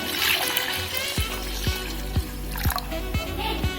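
Water pours into a pot for tomato rasam as a steady trickle, with a rhythmic series of about six soft splashy pulses following an opening stretch of bright pouring noise.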